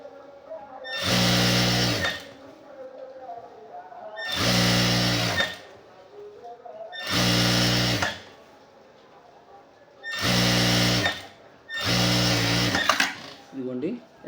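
Electric sewing machine stitching khadi cloth shorts, running in five loud bursts of about a second each with short pauses between, while a person talks in the gaps.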